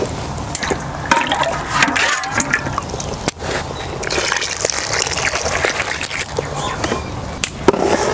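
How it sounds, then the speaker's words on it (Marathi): Hot water is poured into semolina in a pan while making pineapple sheera, giving a steady, close gushing splash that runs almost unbroken for several seconds. "अजून पाणी घालूया"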